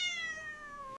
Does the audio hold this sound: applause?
no